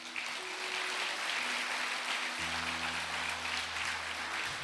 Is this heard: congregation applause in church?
yes